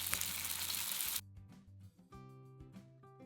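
Shrimp dumplings wrapped in rice paper sizzle loudly in hot frying oil, a dense steady hiss that cuts off after about a second, leaving quieter tonal clinks and kitchen sounds.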